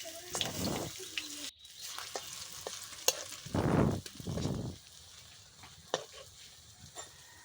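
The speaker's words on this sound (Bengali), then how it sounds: "এরকম করে তোমরা লাল লাল করে ভেজে নেবে" Shiuli (night jasmine) leaf chops fry in hot oil as they are turned with a spatula, giving bursts of sizzling and scraping that swell and fade over a low background crackle.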